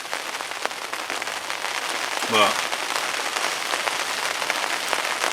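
Heavy rain hammers steadily on surfaces beside a carp fishing lake at night, a dense continuous hiss with scattered drop impacts, and someone briefly speaks over it.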